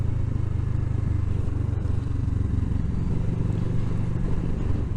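A Kawasaki ER-6f sportbike (Ninja 650R) out on the road, its engine giving a steady, loud drone with no break while the bike rides along.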